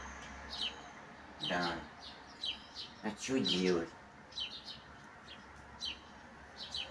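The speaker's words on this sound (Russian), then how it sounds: "Да, птички летают." Small birds chirp and tweet outdoors on a fine morning, brief high calls scattered throughout at moderate distance, with someone talking over them in between.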